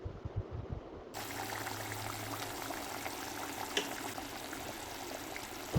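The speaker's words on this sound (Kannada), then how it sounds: "ಕೈಮಾ ಸಾರು ಕುದೀತಾ ಇದೆ." Mutton keema curry with kofta simmers in a pot, giving a faint, steady bubbling and watery churning throughout, quiet and close, with no speech.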